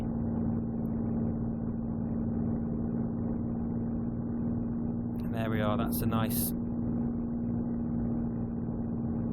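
Spitfire engine idling in Microsoft Flight Simulator, a steady low drone with a constant hum held throughout at moderate level while someone talks over it.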